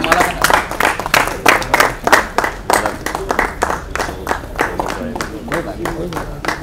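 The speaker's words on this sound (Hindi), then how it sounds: "इसके अलावा आमंत्रित अतिथि कलाकार शिव कुमार व्यास और रवि मोयल, इनके लिए जोरदार तालियां, ये आगे आए।" Loud applause for the invited guest artists Shiv Kumar Vyas and Ravi Moyal at a desert painters' camp: a crowd claps in steady, dense bursts across the whole stretch, with voices in the background.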